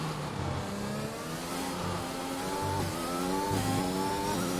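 A race car's engine in a sim racing game pulls hard on a hot lap at the Spain circuit, revving up through the gears with sharp upshifts and a steady, loud whine. The engine is close and alone, with no talk.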